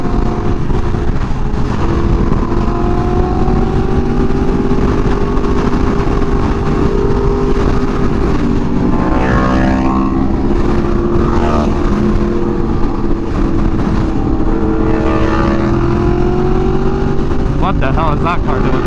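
Four Yamaha R1M sport bikes pulling away from a bike meet, engines droning loud and continuous with rising and falling revs, while people talk over them.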